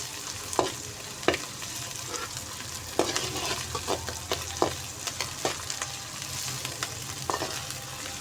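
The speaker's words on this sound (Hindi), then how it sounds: "अब इसको हमने लहसुन अदरक को प्याज के साथ अच्छे तरीके से फ्राई कर लेना है 1 मिनट लगाकर" Garlic, ginger and onion frying together in a pan for aloo gobi, with a constant close sizzle and sharp, irregular clacks of a spoon stirring against the pan, no one speaking.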